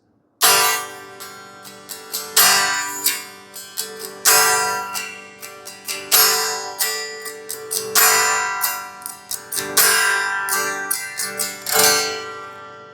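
Acoustic guitar strummed alone in a steady pattern, with hard, loud downstrokes standing out between softer, lighter strums.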